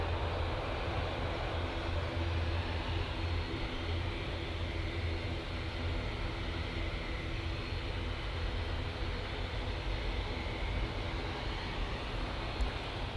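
An Aer Lingus propeller airliner drones steadily and loudly throughout, a constant broad engine roar with a low hum and no voices.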